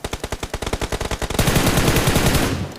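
Rapid automatic gunfire in the mobile battle royale game BGMI: a fast burst of distinct close shots that blurs into a dense, loud roar of firing.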